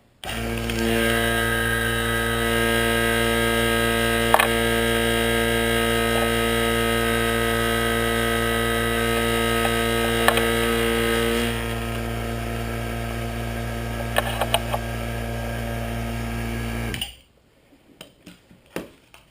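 A two-stage vacuum pump sealing a 5-gallon Mylar bag runs with a loud, steady motorized hum and a few small clinks, then shuts off abruptly, leaving near silence.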